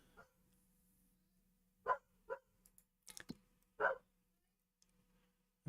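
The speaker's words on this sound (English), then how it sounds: "farm dog's telling me I should get on with it." A farm dog in Farming Simulator 25 gives a few separate barks and yips, spaced out over several seconds against a faint steady background hum.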